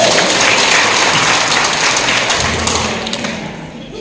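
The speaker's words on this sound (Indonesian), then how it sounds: "Nah, tepuk tangan dulu." A roomful of people at a prayer fellowship gathering claps together, a loud, dense wash of applause that gradually tapers off toward the end.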